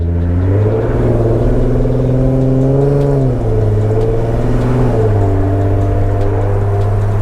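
A tuned Infiniti Q50 engine hums low, then revs up in smooth rising steps as it shifts gears accelerating from near a stop, loud and close with no talking.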